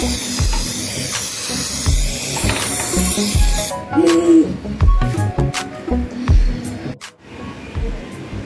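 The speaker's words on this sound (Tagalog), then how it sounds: "And then, we are ready to spray." Spray coating going onto a car with cardboard splash guards masking it, heard as bursts of hissing spray alternating with short pauses, close and fairly loud, with faint clicks between passes.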